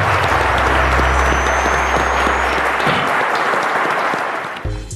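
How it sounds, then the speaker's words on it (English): A studio audience applauds quiz contestants on a TV quiz show, a dense, loud, steady wash of clapping over a low musical tone that cuts off near the end. "Ladies and gentlemen, a round of applause for them."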